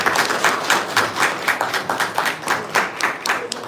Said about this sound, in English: Let's give them a round of applause, Saphir.